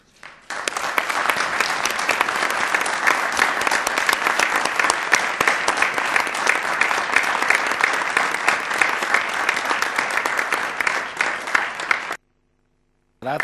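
A ceremony audience breaks into loud, dense applause that holds steady for about twelve seconds and then cuts off abruptly, with no voices over it.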